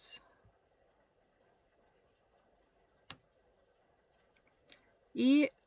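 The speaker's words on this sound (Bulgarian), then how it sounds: "като сложим мишката отпред на сивото поле пред променливата, кликваме" Two sharp, faint computer mouse clicks a couple of seconds apart in a quiet room, followed by a brief burst of speech.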